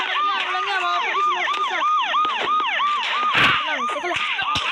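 Police car sirens wail in the video game Gang Wars, a loud, repeating rising and falling tone with sharp clicks and knocks breaking through.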